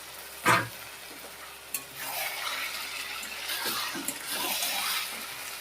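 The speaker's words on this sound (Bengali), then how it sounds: "এই সময় আমি চিকেনটা দিয়ে একসঙ্গে ভাজা ভাজা করে একটু তেলের মধ্যে কষিয়ে দেবো।" Chicken pieces fry in oil in a pan, opening with a sharp utensil clank, then a continuous close sizzle with repeated stirring scrapes.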